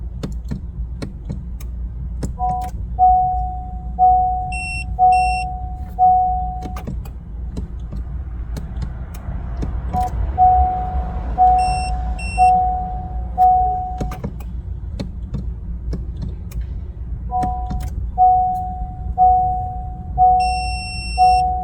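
Electronic beeps from a key fob programming tool on a Honda Civic (2014–2026), sounding in short repeated tonal bursts at intervals, followed by a longer sustained beep, alongside faint clicks from the ignition being cycled.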